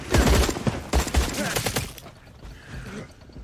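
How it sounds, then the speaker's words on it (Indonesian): A rapid burst of gunfire from a movie shootout, dense overlapping shots and mechanical clatter for about two seconds, then fading into quieter rumbling. "Dalam adu tembak tersebut"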